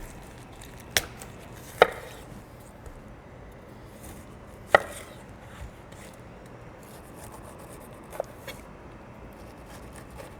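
A knife shaves the spiny edges off a whole pineapple with soft rasping cuts, broken by a few sharp, close knocks against the board.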